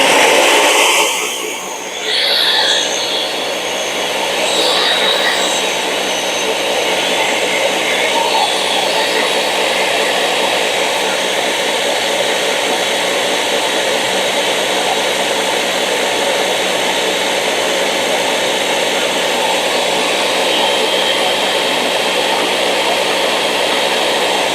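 An electric mixer running at medium speed churns a veggie tray pasta salad, giving a loud, steady whirring drone that holds unbroken for about twenty-five seconds with no voices over it.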